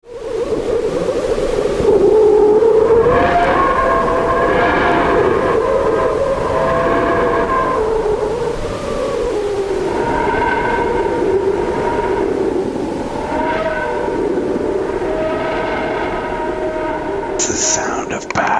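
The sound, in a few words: NASA sonification of the sun's sound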